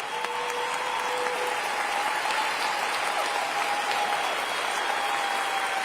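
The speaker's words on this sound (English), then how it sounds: "Let's give them a round of applause" A crowd at a State of the City address applauds city servants and partners, a steady, even wash of clapping with a faint tonal hum running beneath it.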